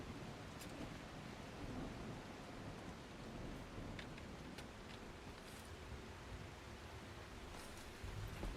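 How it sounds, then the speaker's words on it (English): Rain and distant thunder fill The Last Caretaker video game, a steady, soft hiss of falling rain with low rumbling underneath and faint scattered drips, continuous and even throughout. "It's like every 5 minutes it's freaking raining."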